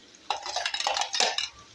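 A spoon scrapes and stirs cashew gravy into frying chicken in a metal pan, a close burst of clatter and sizzle lasting over a second after a quiet start.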